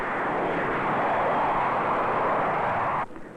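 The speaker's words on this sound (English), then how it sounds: "Soon they are high over the airport, the 4 jet engines working at full power." A four-engine jet airliner takes off at full power, a loud, steady, broadband roar and whine that holds throughout, then cuts off abruptly near the end.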